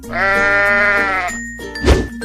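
A cartoon sheep gives one long, loud, wavering bleat up close, followed by a brief pause and a sharp knock-like hit at the end.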